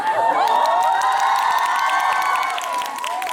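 A cinema audience at a Korean film stage greeting in Bucheon for the movie Fabricated City shouts a loud unified cheer, a dense, sustained crowd roar with whoops and high voices lasting several seconds.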